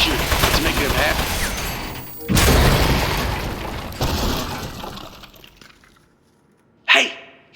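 Gunfire and shattering bursts from the Aperture Desk Job video game, a loud dense fusillade that rises again around two seconds, tapers into quiet, then a final sharp impact near the end.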